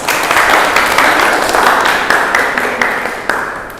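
Classroom applause during a fiqh lesson, a group of students clapping steadily and fairly loud, with a few sharper individual claps standing out as it gradually thins toward the end.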